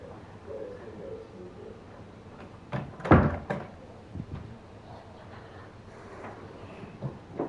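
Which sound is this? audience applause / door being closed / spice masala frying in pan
door being closed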